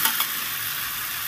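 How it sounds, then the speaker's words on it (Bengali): Taro and potato pieces sizzle and fry in spiced oil in a pan while being stirred, a steady close hiss with a couple of scraping stirs near the start. "এবার দেখুন দিয়ে দিচ্ছি কচু আর আলু"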